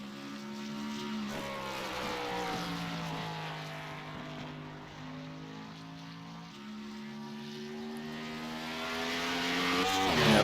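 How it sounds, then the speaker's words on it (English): Stock cars racing on a track in the iRacing video game, several engines droning and whining as they pass, pitch sliding with speed, loudness swelling toward the end as cars approach. "A few more cars coming on track."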